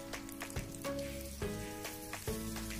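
Aglio olio with a generous handful of dried parsley is stirred in a hot pan, giving a steady loud sizzle broken by several scraping stir strokes at irregular intervals.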